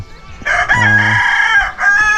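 A village rooster crows once, loud and close, a long drawn-out call lasting well over a second amid faint outdoor background.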